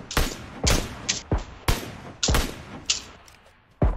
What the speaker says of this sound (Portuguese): Ele tá me atirando.